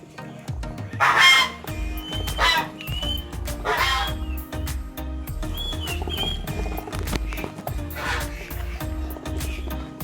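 Geese and jumbo Muscovy ducks call repeatedly in a loud, overlapping chorus of honks and quacks close by, over a continuous busy poultry-yard background.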